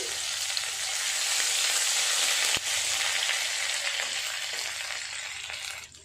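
Crushed ginger dropped into a cumin-seed tempering frying in hot oil, with a loud, steady, close sizzle throughout and one sharp click partway through.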